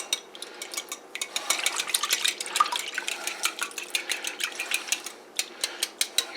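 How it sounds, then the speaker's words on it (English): Milk goes into eggs in a bowl for a country breakfast bake, with continuous wet stirring and repeated utensil clinks against the bowl, close and fairly busy throughout. "I add my milk to that."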